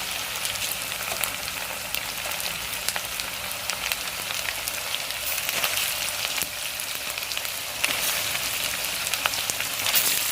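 Chicken sizzles and fries in a pan with a steady, even crackling hiss that carries throughout, close and moderately loud, with no speech over it.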